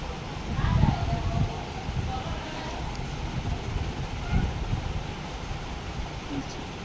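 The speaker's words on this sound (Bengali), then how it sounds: "মাছটাকে এবার ভালো করে ধুয়ে নিচ্ছি।" Cut pieces of hilsa fish washed in water, giving a steady, fairly loud rush and splash of water that continues for several seconds, close to the microphone and without talk.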